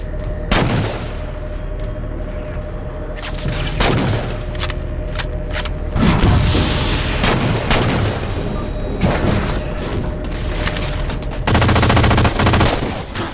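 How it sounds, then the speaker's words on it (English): Gunfire strikes a ship's starboard side in the Halo 4 video game, with loud bursts of rapid shots and heavy impacts repeating in clusters over a constant engine drone, close and forceful. "Taking fire! Starboard side!"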